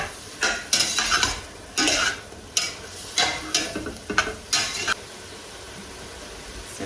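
Garlic cooking in a pot for hamburger soup, stirred with a utensil in a series of scraping, clattering strokes over a light sizzle, then fading to a quiet simmer.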